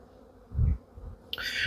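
Honeybees buzz at an open hive. A soft, close hum swells briefly and then fades, and a brighter rustle starts near the end.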